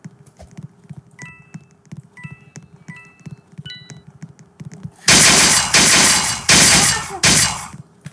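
Rapid bursts of video game gunfire, four loud volleys in quick succession, following a stretch of quieter clicks and beeps.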